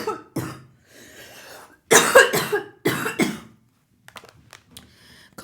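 Someone coughs several times in harsh close bursts, with a couple of weaker hacks and throat sounds between, then fades to faint rustling.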